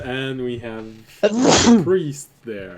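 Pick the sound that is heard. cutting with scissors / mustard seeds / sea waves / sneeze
sneeze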